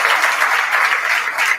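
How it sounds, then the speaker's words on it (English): Audience applause fills the room at a talk, a dense, steady burst of many hands clapping at close range with no voices over it. "Can we give him a round of applause?"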